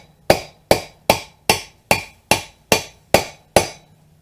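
Hammer tapping a wheel bearing race into the hub of a 1995 Ford F150, nine evenly spaced sharp metallic knocks, each ringing briefly, close and clear with no talk.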